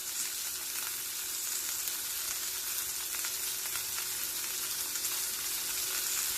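A burger patty fries in a pan, giving a steady, even sizzle with fine crackles close by, holding at a constant level throughout with no speech.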